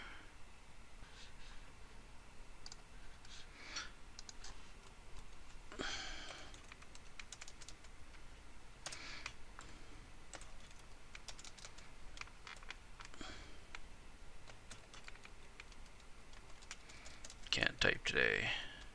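Quick irregular bursts of computer keyboard typing, soft close clicks in short runs separated by pauses, ending in a louder flurry of keystrokes.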